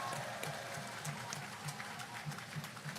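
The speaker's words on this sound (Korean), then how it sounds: "그들에게 박수 한번 보내주십시오." An audience at an outdoor presidential campaign rally in Yangsan applauds, with soft, fairly distant clapping and recurring crowd bursts spread across the few seconds.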